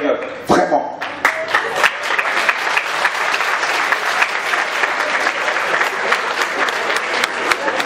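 Sustained applause from an audience at a school presentation honoring teachers, dense steady clapping that rises sharply after a brief opening and holds at full strength throughout, with faint voices mixed underneath.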